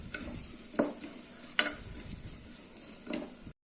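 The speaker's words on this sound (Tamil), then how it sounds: "இப்போ இது வதக்கலாம் பச்சை வாசனை போக" Coriander powder, turmeric and salt sauté in a pan for a mushroom biryani, giving a quiet, low sizzle broken by a few sharp spoon scrapes and taps.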